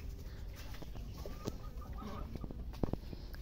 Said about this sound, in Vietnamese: À, bạn gà này đi ấp đây.